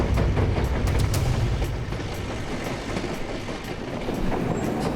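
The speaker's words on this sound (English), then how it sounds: "You can see the front of the train snaking into that tunnel." A long passenger train rolls past a wooden trestle toward a cliffside tunnel. Its wheels give a steady clickety-clack with a low rumble that fades slightly as the cars move on.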